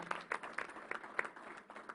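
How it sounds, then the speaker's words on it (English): A small press-conference audience gives a brief, fairly faint round of clapping, a few scattered claps pulsing irregularly for a couple of seconds. "Let's give her a round of applause."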